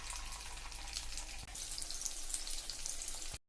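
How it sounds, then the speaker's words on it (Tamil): Prawns for prawn 65 fry in hot oil with a loud, dense, continuous sizzle and a single brief clatter midway, with no talking, until the sound cuts off abruptly. "இப்போ மீதி இருக்கிற எறாவை இதே மாதிரி பொரிச்சு எடுத்துக்கலாங்க"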